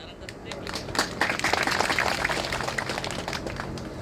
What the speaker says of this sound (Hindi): ये जो तालियां बज रही है ना, ये सब पीड़ित लोग हैं